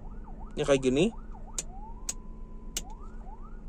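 A Hyundai Stargazer Active ambulance's siren wails in rising and falling electronic sweeps, heard close up. Someone speaks briefly over the start, and several sharp clicks cut in between the sweeps.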